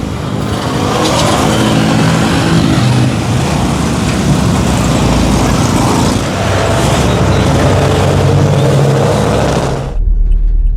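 Loud, steady roar of motorcycles and road traffic near a bridge, with engines surging and passing close by before cutting off abruptly at the end.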